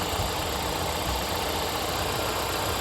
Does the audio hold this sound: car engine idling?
yes